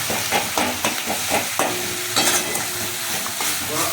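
Spice paste for a vegetarian brinjal curry frying in oil, being stirred with repeated scraping strokes over a steady close sizzle, no voices.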